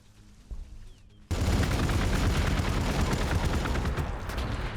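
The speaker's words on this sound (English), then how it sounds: "Ooh, we're taking a lot of fire." Dense, sustained gunfire and explosive volleys from a battle in the strategy game Gladius: Relics of War, bursting in loud after a quiet opening second and rattling on continuously to the end.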